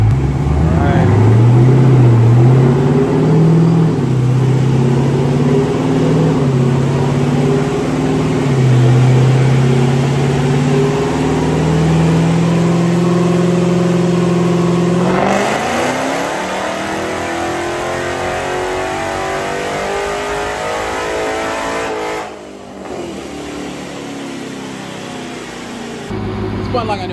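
A 1,000hp Dodge Hellcat engine revving hard on a dyno, a loud sustained roar that climbs through the gears, peaks, then drops back to idle and rises again, with voices talking over the noise.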